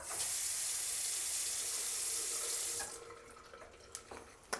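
Motion-sensor airport washroom tap runs a steady, close hiss of water into a sink for nearly three seconds, then cuts off, leaving faint room noise and a few small knocks.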